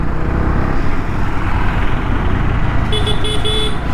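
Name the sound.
weak horn of a Honda CB300R motorcycle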